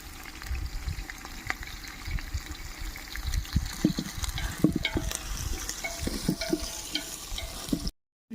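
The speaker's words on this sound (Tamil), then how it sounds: "கருவேப்பிலை போட்டுக்கலாம்." Curry leaves fry in hot oil for a village-style prawn gravy, giving a steady close crackle and sizzle broken by scraping stirs, until the sound cuts off abruptly near the end.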